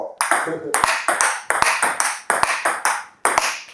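Table tennis rally using a SPINFIRE Extrem Soft rubber, a quick, steady series of sharp ball strikes and table bounces at a regular pace, close and crisp, with no clear talk.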